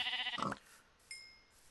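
A Minecraft sheep in the Feed The Beast modpack lets out a single clear, wavering bleat up close, followed by faint, quiet game ambience.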